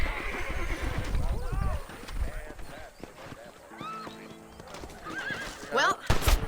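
A horse in the Red Dead Redemption video game whinnies repeatedly over clip-clopping hooves, with a voice talking in between, at a moderate level that swells near the end.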